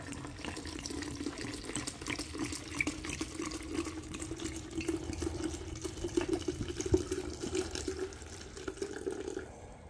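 Friendship coffee with vodka being poured while making a Baileys-style drink with sweetened condensed milk and creamy latte, a faint steady trickling stream running for about ten seconds, with no talking.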